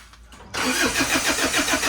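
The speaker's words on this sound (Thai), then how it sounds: "เนี่ยสตาร์ทติดอยู่ครับ" An Isuzu Faster pickup engine cranks briefly, then fires and settles into a loud, close, rhythmically pulsing idle, with no voices over it.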